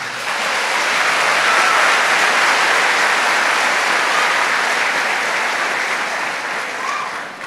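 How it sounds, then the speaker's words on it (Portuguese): A church congregation applauds at a Catholic preaching service, steady dense clapping that swells quickly and holds loud and even for several seconds before easing slightly at the end. "Aplauda o Rei de Israel."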